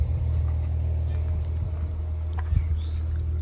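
A 2010 Subaru Forester with a swapped 55,000-mile engine, running and hot-wired, idling in a steady low rumble close to the microphone, with a few faint clicks and knocks over it.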